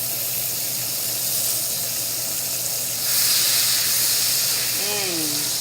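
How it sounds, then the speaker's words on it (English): Minced garlic hits melted butter in a pan for Cajun shrimp and chicken pasta, a soft steady hiss that swells louder midway, with a brief high squeal near the end. "I'm going to add maybe 1 teaspoon of minced garlic"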